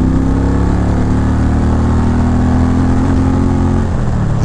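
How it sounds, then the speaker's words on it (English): A 2023 Indian Challenger motorcycle with its stock dual exhaust runs with a loud, close, steady engine drone, its pitch holding nearly level before easing slightly at the end. "for it being a stock bike, it makes a pretty nice noise"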